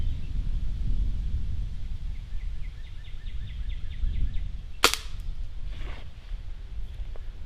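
A single sharp gunshot cracks near the middle of a target shooting challenge outdoors, loud and close, against steady wind and rustling with faint bird chirps.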